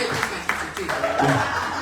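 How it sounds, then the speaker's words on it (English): An audience at a polka festival's concertina gathering gives a steady round of applause, a dense wash of clapping with a few voices and light laughter mixed in. "Let's give Carter a nice round of applause."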